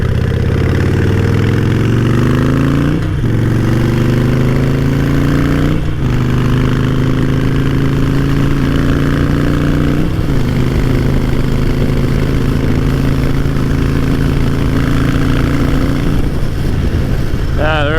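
A Harley-Davidson Nightster 1200 engine pulls hard through the gears, loud and close, its rising drone dropping briefly at each shift and climbing again, with wind roar over it.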